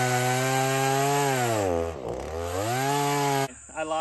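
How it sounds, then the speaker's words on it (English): Chainsaw with a dull chain cutting a poplar log at a sawmill, a loud sustained engine whine that dips and labors as the bar bites into the wood, then cuts off abruptly. "I'm going to cut it in half"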